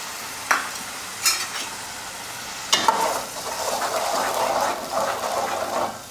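Ground tomatoes are added to a chole masala gravy and fry in hot oil, giving a soft, steady sizzle with a few bursts of stirring and spattering. No one speaks.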